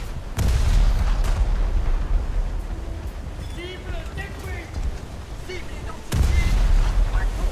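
Low-velocity naval guns on a French coastal boat in a naval video game fire in heavy booming blasts, with a sustained rumbling roar between the shots.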